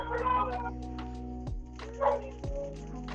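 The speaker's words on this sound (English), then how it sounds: "Behold, my army of dogs." A pack of dogs in the video game Call of Duty: Mobile gives short yips and barks over a steady low electronic hum, with a few brief bursts standing out.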